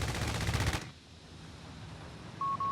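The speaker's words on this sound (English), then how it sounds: "Nice strafe there, right as they enter the danger zone." Strafing gunfire in the World War II strategy game Company of Heroes 3, a dense burst of rapid shots for under a second, followed by quiet game ambience and a short electronic tone.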